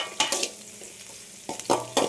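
Quiet sizzling of onions sautéing in a pan, broken by a few stirring scrapes and clatters, with no talking.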